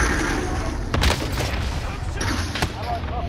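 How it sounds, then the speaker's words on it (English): Cluster strike explosions in the Call of Duty: Modern Warfare game pound in a dense, continuous barrage of booms and crackling blasts, with louder bursts standing out near the start and end. "Cluster strike away."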